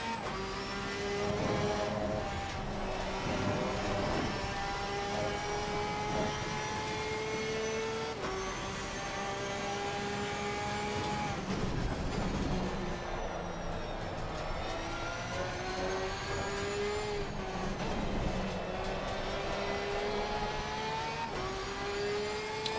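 Porsche race car engine in a racing video game, droning steadily through the whole stretch with rising and falling pitch as it accelerates and shifts gears, loud and continuous with no talk over it.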